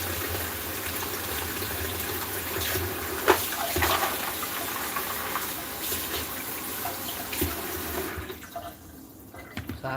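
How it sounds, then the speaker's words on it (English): Cold water runs steadily from a tap into a bowl, a continuous broadband gush lasting several seconds before easing off near the end, with no talk over it. "So I'm gonna run some cold water."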